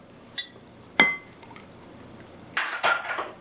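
Wet muffin batter for crumble-top blueberry muffins is combined with the dry ingredients in a bowl: two sharp clinks against the bowl, a pause, then a short wet pouring and scraping burst.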